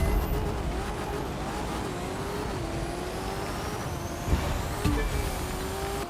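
A car engine hums steadily at speed in the racing game The Crew 2, the pitch shifting slightly with gear changes and a couple of brief knocks, loud and continuous with no talking.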